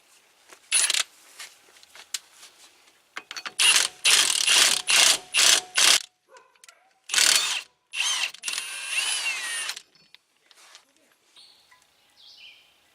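A ratchet spins a lug nut onto a replacement wheel stud to draw it through the hub, beside drum-brake shoe mounts. Several close bursts of rapid clicking are separated by short pauses, with no voices.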